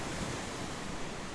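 Sea water rushing over a coastal spit at sunrise, a steady broadband wash of surf with some wind noise, close and continuous, with no voices.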